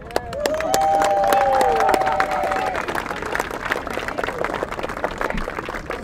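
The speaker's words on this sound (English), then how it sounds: "I would like some big applaudissements" A tournament crowd applauds and cheers loudly, with dense clapping that swells early, holds, and tapers slightly. Whistles and shouts rise above it.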